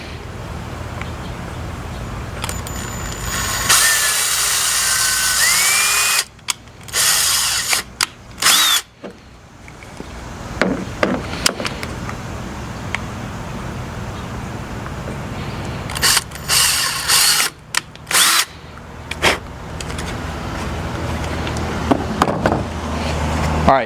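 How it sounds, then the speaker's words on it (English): A power drill whirs in repeated bursts, drilling holes into a trim piece on a 2024 Chevy Colorado ZR2 with a small bit, short high-pitched runs separated by pauses, close and loud over a faint background hum. "we're going to drill those in. Make sure to use the smaller drill bit."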